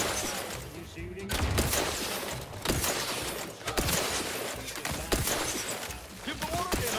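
Bursts of gunfire crackle during combat in The Outer Worlds 2, repeated sharp shots and impacts over several seconds mixed with voices and game effects.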